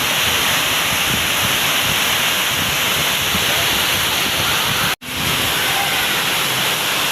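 Strong waves and gusting wind roar as dense, unbroken noise close by, with a brief dropout near the end before the surf resumes.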